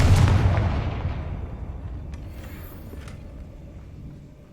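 A Confringo spell explosion in a Hogwarts video game bursts loudly at the start, then rumbles and fades into a long decaying roar with faint crackling debris.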